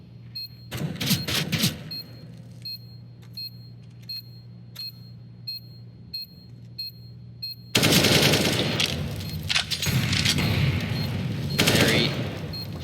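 Counter-Strike: Global Offensive gunfire on the Mirage map in a women's tournament match, including AWP sniper rifle fire: sharp, loud shots crack in quick bursts, then heavier continuous firing takes over in the second half, while a caster talks throughout.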